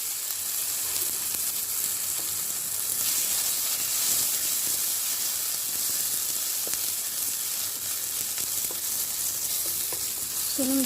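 Garlic sizzles and fries steadily in a hot pan for eggs with tomato, a dense continuous hiss with faint scrapes of stirring, close and even throughout.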